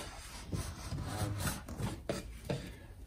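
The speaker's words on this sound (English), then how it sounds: "A little sanding, get that last little bit of residue off." Steady rasping of sandpaper rubbed back and forth over wood filler on wood, in short repeated strokes, fairly close and moderately loud.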